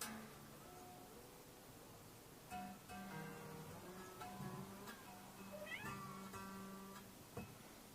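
A house cat meows several times indoors, short tonal calls spread across the stretch, one rising and falling cry near the end, faint against quiet room hiss.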